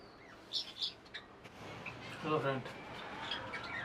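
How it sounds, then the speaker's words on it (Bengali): Small birds chirp close by in short, bright bursts. A voice murmurs faintly beneath them partway through. "তোমরা ততক্ষণ পাখিগুলোর মজা নাও"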